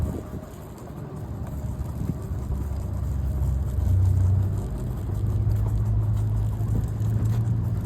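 A car or truck rolls past in a mostly empty store parking lot, a steady low rumble of engine and tire noise that swells and holds across the clip, with wind buffeting the microphone.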